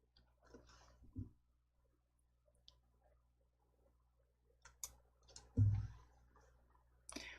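Mouse clicks in word-processor software sound as a few sparse, sharp clicks scattered over a quiet background, close and faint, with one louder thump midway.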